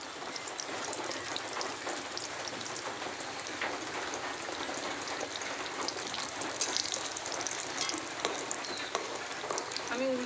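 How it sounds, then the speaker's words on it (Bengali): Biscuits frying in oil over medium heat crackle and sizzle in a continuous, close hiss, with small pops throughout and a slight swell near the end. No one speaks. "এবার আস্তে আস্তে মিডিয়াম আছে বিস্কুটগুলো ভেজে নিতে হবে।"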